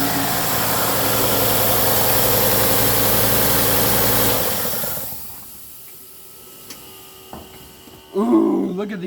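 A loud, steady engine of a 1958 A120 4x4 Travelette, burning oil, idles for about four seconds, then shuts off, leaving quiet clicks, faint noises and a brief burst of talk near the end.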